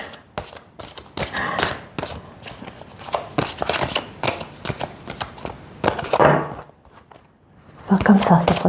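Deck of archangel tarot cards shuffled by hand in repeated crisp riffling bursts, close and fairly loud, with brief pauses between handfuls and faint talk underneath.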